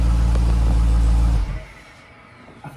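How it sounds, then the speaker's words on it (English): A 2020 SRT car on its stock exhaust runs a loud, steady, deep idle that cuts off sharply partway through and leaves a quiet hum behind it, heard close with no talking. "You can actually hear me talking over the exhaust."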